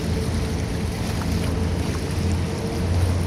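A boat engine rumbles low and steady out on Manila Bay, mixed with wind buffeting the microphone and washing water, continuous and fairly loud.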